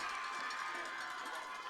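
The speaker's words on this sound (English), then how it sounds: "you hear in the roar of the crowd for Sullivan" Crowd roaring for Sullivan at a high school football game, a steady, dense wash of cheering voices filling the whole moment without a break.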